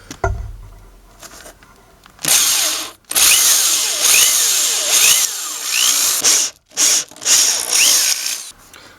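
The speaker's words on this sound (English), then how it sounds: "I will pre-drill the pilot hole and then use a bit slightly smaller than 3/8" A power drill bores a pilot hole for a 3/8 set screw in a homemade wood lathe, whining loudly in several bursts of a second or more, separated by short pauses and quieter mechanical clicks.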